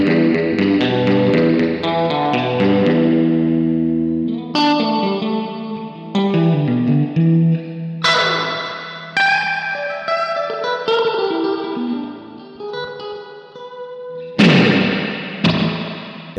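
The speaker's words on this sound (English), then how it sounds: "The Spring is one of the most realistic spring reverb sounds I have heard in a pedal like this." Electric guitar played through a spring reverb pedal, with picked chords and notes ringing into a wet, splashy reverb tail, and sharp attacks around the middle and near the end. The tone is clean and close, with no talking.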